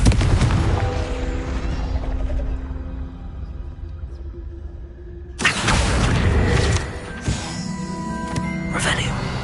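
A Confringo blast spell in Hogwarts Legacy bursts loudly midway through, a sharp explosive crack with a rumbling tail and further bangs, following a stretch of humming game ambience and voices.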